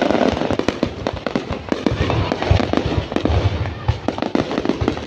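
Dense New Year fireworks display in Hà Tiên, Vietnam, with continuous loud bursts, crackles and booms overlapping throughout, close and powerful with no pause.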